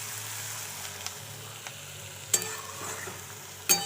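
Bay leaf, whole garam masala and a cinnamon stick sizzle in hot oil, giving a steady fry noise broken by a few sharp clatters of stirring or utensil knocks, close up with no talking.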